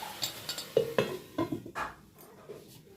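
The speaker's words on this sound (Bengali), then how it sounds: "এবার এটাকে একটু ঢাকা দিয়ে রাখবো দু মিনিটের জন্য" A lid set onto a pot of boiling greens with several close metallic clanks and clinks of cookware, a few sharp knocks in quick succession, then quieter clatter trailing off.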